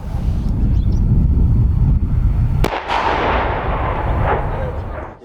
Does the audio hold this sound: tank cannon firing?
yes